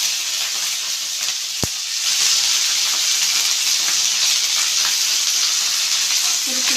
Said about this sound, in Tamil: பச்சை மிளகா சேர்த்துக்கும் கருவேப்பிலை கூட சேர்த்துக்கும்